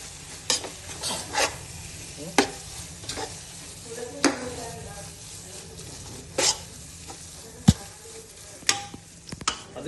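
A spoon stirs a Thalassery-style chicken rice mixture with coriander and mint in a pot, giving soft scraping strokes and occasional metallic clinks over a faint low sizzle, intermittent and close.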